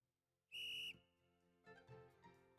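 A single shrill whistle blast rings out loud and steady for under half a second, cutting into a quiet moment, followed by a low tonal musical background.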